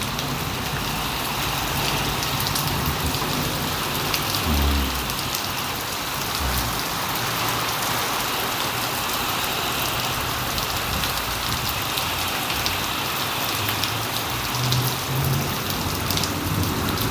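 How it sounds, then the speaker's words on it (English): Heavy rain pours steadily during a storm in Phoenix, Arizona, a dense, continuous hiss of drops hitting surfaces close by, with a few faint low rumbles underneath and no voices. "this is one of those times where we get a whole lot of rain."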